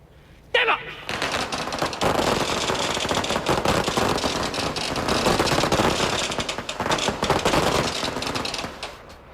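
Blank rounds fired in a ceremonial salute at a national day parade, a sharp loud onset followed by a long dense rattle of echoing shots and crowd-like roar that fades near the end.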